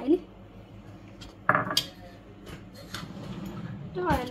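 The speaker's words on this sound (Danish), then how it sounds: "Så rører jeg lidt rundt i det nu." A spoon scrapes and clinks around a bowl while ingredients are stirred together, with scattered metallic taps and knocks near and fairly loud, and a person talking in between.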